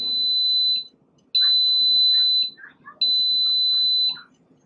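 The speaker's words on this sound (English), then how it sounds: "when this thing beeps and tells me that it's ready to be done" A Cosori pressure cooker beeps when cooking finishes: three long, loud, steady electronic tones with short gaps between them, separated by faint background sounds.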